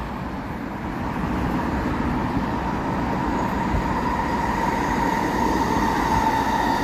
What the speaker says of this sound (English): There's a SkyTrain right there.